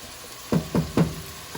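Three evenly spaced thuds and scrapes as a utensil stirs basmati rice with shrimp, chicken and sausage in a pan, over a faint steady sizzle.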